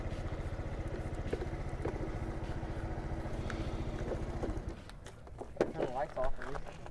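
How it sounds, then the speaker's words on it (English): Motor scooters idle and ride on a bridge at night, their engines putting out a steady low chugging drone before it drops away, with people talking over a clattery background. "we're riding motorbikes on a bridge"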